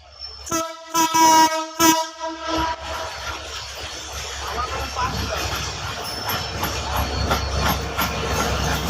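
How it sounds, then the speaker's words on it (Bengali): A train crosses the Kamlapur railway overpass in Dhaka, sounding several loud, choppy horn blasts before settling into a heavy, rolling rumble of wheels and carriages that builds toward the end. "রেল যাচ্ছে উপর থেকে"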